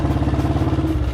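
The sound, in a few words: Royal Enfield Bullet motorcycle pulling in third gear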